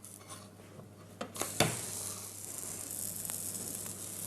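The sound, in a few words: banana pancake frying in a pan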